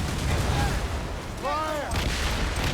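Ship cannons fire in Assassin's Creed Rogue during a naval battle, deep booms rolling under a low, rumbling background, with a whistling tone rising and falling between shots.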